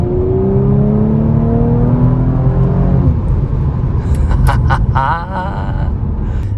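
A 2019 Audi RS5 Sportback with Quattro drive pulls hard, its engine note rising steadily in pitch for a few seconds before a sharp upper whine and brief higher tones take over, loud and close throughout.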